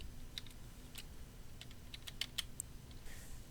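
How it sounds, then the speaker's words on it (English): An access code is typed on a computer keyboard, heard as sparse, irregular key clicks close by over a quiet room hum, with a few sharper taps near the end. "I'll type in the access code and click Connect"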